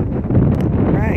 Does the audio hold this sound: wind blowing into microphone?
yes